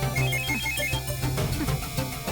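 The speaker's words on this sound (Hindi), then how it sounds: "फोन की घंटी बज गई" A phone ringtone chimes in a melodic, repeating electronic pattern, fairly loud and continuous over dense background music in a dramatic domestic scene.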